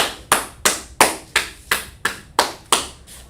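A single person's hand claps ring out nine times in an even, unhurried rhythm, each a sharp, close, bright slap with a short decay.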